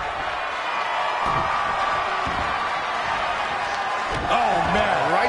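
Arena crowd noise from a wrestling video game match, a steady roaring murmur with scattered cheers and slams beneath a commentator's voice talking throughout.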